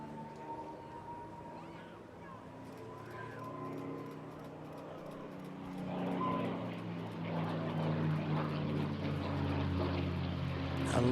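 An aircraft at the Eastbourne International Airshow 2024 makes a topside pass, its engine drone building from moderate to louder and nearer over several seconds, with a steady propeller-like hum throughout.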